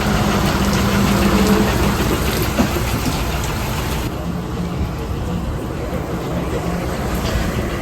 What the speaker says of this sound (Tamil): மழை ஊற்று ஊற்றுன்னு ஊற்றுதுங்க